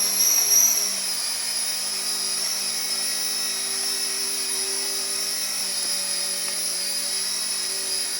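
Small toy remote-control helicopter hovering in place indoors, a steady thin high-pitched whine of its rotor and motor holding constant throughout, fairly close and alone with no talking.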